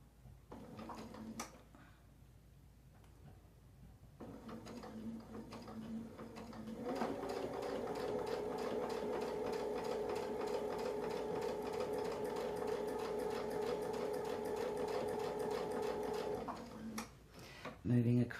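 A sewing machine stitches a zigzag quilting pattern along a template, running in a steady, fast, continuous whir for about ten seconds after a few short starts and stops, with light mechanical clicks at either end.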